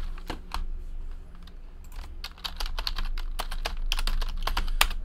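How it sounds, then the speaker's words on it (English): Rapid typing on a computer keyboard, up close and fairly loud, with irregular bursts of key clicks that pause briefly and then pick up again, with no voices. "let's type in all of these hits here"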